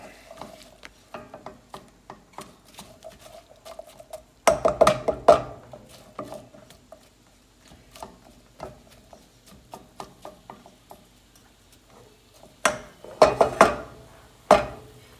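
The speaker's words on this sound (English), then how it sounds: "Get all the apples mixed up with that melted butter." A spatula stirs apples through melted butter in a pan, giving repeated clattering scrapes and taps against the metal, quieter at first and then coming in loud, dense bursts.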